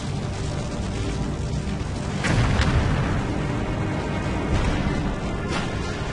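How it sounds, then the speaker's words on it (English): British artillery bombards Quebec, a dense, continuous rumbling barrage with heavier booming swells, as in a war documentary sound effect, loud and unbroken without talk. "British forces try to bombard Quebec into submission"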